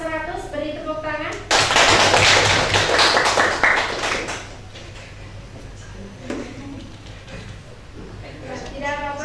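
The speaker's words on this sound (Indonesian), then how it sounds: "untuk anak-anak yang mendapat skor 100 beri tepuk tangan" Students in a classroom break into a loud burst of clapping for classmates who scored 100. It lasts about three seconds between stretches of a teacher's talk.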